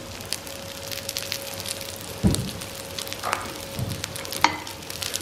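Spinach vegetable balls fry in olive oil in a pan, giving a steady, gentle sizzle with occasional soft stirring clatters and pops, close and alone without speech.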